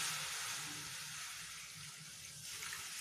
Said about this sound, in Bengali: চিকেনটা তোলার পরে এই কড়াইতে আমি জল দিয়ে দিচ্ছি।